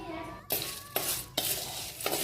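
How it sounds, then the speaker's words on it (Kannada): Ghee and rock sugar heating in a kadai for bombe rava halva, a soft steady sizzle broken by about four distinct metallic scrapes or clinks of a spoon against the pan, close and moderately loud. "ಈ ಕಡೆ ಒಂದು ಕಡಾಯಿನಾಗ 2 to 3 ಸ್ಪೂನ್ ತುಪ್ಪ ಹಾಕಿ ಅರ್ಧ ಬಟ್ಲು ಕಲ್ಸಕ್ಕರೆ ಹಾಕಿ ಕರಿಯೋವರೆಗೂ ಬಿಟ್ಬಿಡಬೇಕು."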